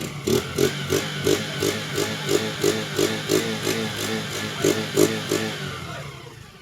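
A stock police service motorcycle engine idles close by with a steady, throbbing rhythm of pulses, fairly loud and even throughout, with no talking.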